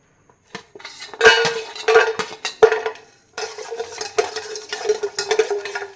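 Garlic fries in hot oil in a pan for a horse gram sprout sambar, with a soft sizzle under bursts of clattering as a metal spoon stirs and knocks against the pan.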